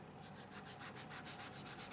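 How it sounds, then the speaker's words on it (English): Quiet, rhythmic rubbing strokes of a sanding stick on a small plastic part for a 1/200 Yamato battleship model, about a dozen even back-and-forth passes close up with no talking. "So I'll just use my sanding stick or sponge."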